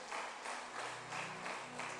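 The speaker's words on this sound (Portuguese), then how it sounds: "As palmas para o Senhor." Church congregation clapping in a steady rhythm for the Lord during a Portuguese-language service, a soft, distant beat of applause repeating about every third of a second with a faint hum beneath.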